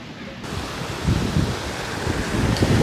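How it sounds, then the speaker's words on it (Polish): Steady surf and wind at Surin Beach, Thailand, a palm-fringed shore, giving a continuous broadband wash of breaking waves with gusty microphone rumble that swells slightly toward the end. "to jest taka piękna plaża Surin Beach"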